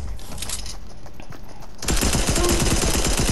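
An aimbot gun in a team rumble video game fires a rapid, loud burst of automatic shots beginning midway, after a stretch of quieter game ambience.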